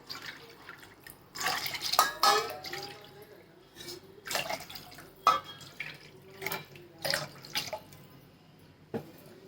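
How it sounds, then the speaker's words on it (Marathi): Water splashes and trickles into a pan in four separate bowlful pours totalling about a litre, each a short gush followed by quieter dripping. "त्याच वाटीने मी चार वाट्या पाणी टाकते म्हणजे एक लिटर पाणी टाकते"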